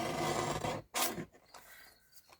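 Paper being trimmed from a crafting card, with soft rasping and scraping strokes close by, a brief pause, then a brighter cutting stroke before the sound thins out.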